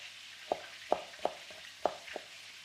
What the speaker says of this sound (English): So you just chop it like this.